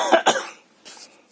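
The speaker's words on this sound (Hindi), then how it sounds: "खांसी हो रही है।" Two sharp coughs in quick succession, close and fairly loud, followed by quieter breathy throat sounds.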